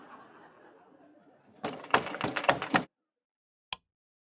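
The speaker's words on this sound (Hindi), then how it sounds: "देखिए इतनी रात को कौन खटखटा रहा दरवाजा?" Someone knocks on a house door late at night: a quick burst of loud, close raps, a pause, then one last sharp knock.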